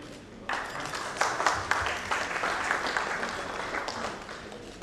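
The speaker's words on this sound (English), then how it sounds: "Let's give a big round of applause." Audience applause at a literature festival in Bhubaneswar, a broad steady wash of clapping that starts abruptly and holds fairly loud throughout, with a few sharper claps standing out.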